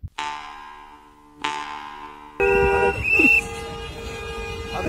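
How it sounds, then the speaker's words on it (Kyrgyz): Car horns honking in a traffic queue, two ringing tones first, then a longer blaring horn with a shorter overlapping honk over a low street rumble. "не надо сигналить пожалуйста кто там сигналит"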